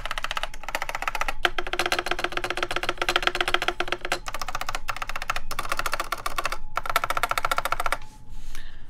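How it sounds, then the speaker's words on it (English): Rapid, dense keystrokes on a Bakeneko65 mechanical keyboard fitted with thick keycaps, loud and close, clacking continuously with brief pauses before stopping near the end. "You can hear every keystroke."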